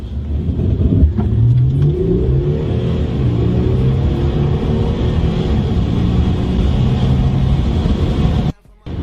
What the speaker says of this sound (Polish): pokażę Wam jak wygląda przyspieszenie od 0 do 100 w moim aucie